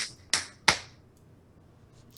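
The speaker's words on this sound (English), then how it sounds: "Your clapping is loud." Three sharp claps ring out right beside the microphone, very loud and close, two in quick succession and a fainter one after a pause, with no talking.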